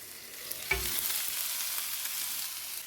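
Green bean sundal sizzling and frying in a pan as it is stirred, with a steady hiss throughout and one clear thump of the spoon against the pan near the start.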